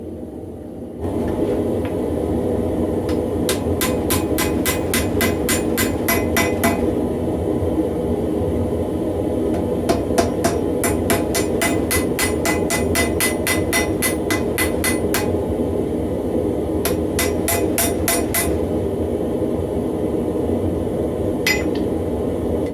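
Rapid hammer blows ring out in fast bursts over a loud, steady roaring drone, close and metallic, pausing between rounds of strikes while a heated steel railroad spike end is flattened.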